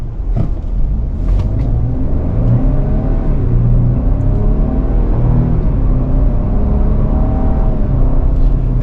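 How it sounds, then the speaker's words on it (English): A 2024 Ford Ranger XLT 4x4 pickup with the 2.7-liter V6 brakes hard from speed, heard from inside the cab as a steady loud road and engine rumble whose tone slowly falls, with no talking. "And now we'll hit the brakes again, give you a better idea."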